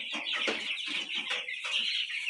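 A dense flock of 30-day-old broiler chickens on a poultry farm clucks and chirps continuously in a loud, busy, overlapping chorus close by.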